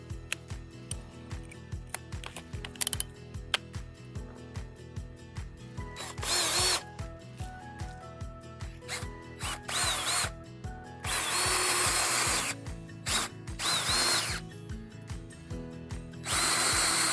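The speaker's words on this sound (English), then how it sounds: "we're going to drill at about a 45-degree angle to try and reach the center of the post" A power drill grinds steadily into a wooden post at a 45-degree angle in repeated bursts, its motor whining and revving up and down close by, with louder high-pitched surges near the end.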